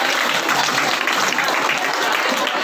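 A crowd of students and guests at a government high school Sharada Puja and award ceremony applauds in steady, dense clapping that holds for the whole stretch, with no talking over it.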